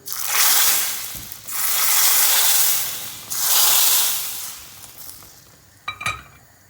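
Garlic and mint hit hot oil and are stirred into a pot of ezogelin lentil soup, making three loud surging sizzles. Each hiss swells and fades, then a few metallic clinks follow at the end.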